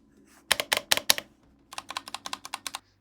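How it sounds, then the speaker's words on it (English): Typing on a ThirdReality MK1 smart mechanical keyboard with yellow linear switches: a short burst of four crisp keystrokes, a pause, then a steady run of about ten even clacks, close and clear with no talking. "Typing on it feels great thanks to the yellow mechanical key switches, smooth, linear, and pretty quiet."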